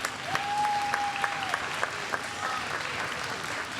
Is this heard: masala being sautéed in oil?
no